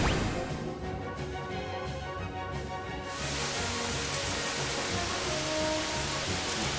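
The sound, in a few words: acid rain attack in Final Fantasy VI video game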